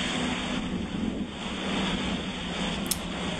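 A big gust of wind rolls down over an Interlake sailboat reaching across open water, a steady broadband roar of wind buffeting the microphone with wash of water beneath, continuous and fairly loud throughout.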